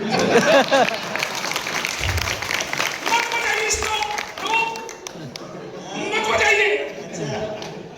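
Audience at a Hindi veer ras poetry recital giving brief scattered clapping and murmurs, mixed with a performer's voice speaking over the crowd.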